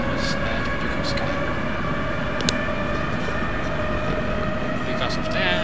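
Subway train running in the Roblox game Subtransit Drive, a steady loud rumble with tonal whine and a brief click, under a voice talking throughout.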